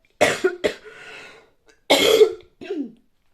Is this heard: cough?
yes